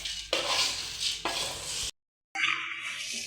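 Puffed rice roasts in a pan while a ladle stirs it, a dry rustling hiss with scraping strokes, broken by a short silent cut before the stirring resumes.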